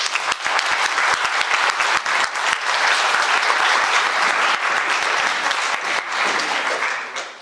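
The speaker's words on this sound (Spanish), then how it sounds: "primero les pido un fuerte aplauso a nuestro moderador" Sustained audience applause for the moderator at a seminar on 2020 tax reforms: dense, loud clapping from a large crowd, continuing evenly for several seconds before tapering off.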